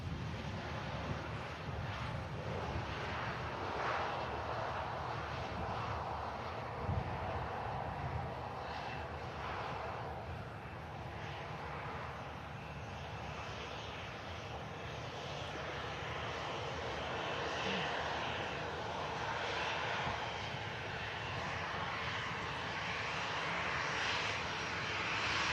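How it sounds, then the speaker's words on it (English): Air Transat airliner taxiing on the runway after touchdown, a steady distant engine roar with wind rumble throughout and no voices. "with that touchdown now, the Air Transat continues its taxi."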